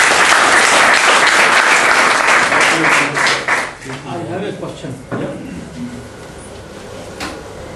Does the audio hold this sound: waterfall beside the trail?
no